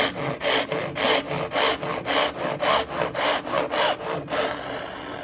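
A hand saw cuts a wooden dovetail for piston-fit drawers in quick, even back-and-forth strokes, about a dozen rasping pulls close up, alone and fairly quiet.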